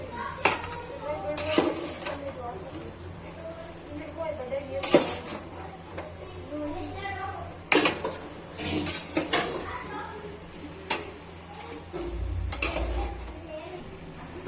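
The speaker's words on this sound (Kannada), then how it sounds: "ಇವಾಗ ಸ್ವಲ್ಪ ಮಿಕ್ಸ್ ಮಾಡಿ ಸ್ವಲ್ಪ ಫ್ರೈ ಮಾಡಕ್ಕಿದ್ದೇನಂತ." Chicken pieces are mixed in a pan for frying, sharp clanks and scrapes of a utensil against metal over a faint sizzle, while a person talks throughout.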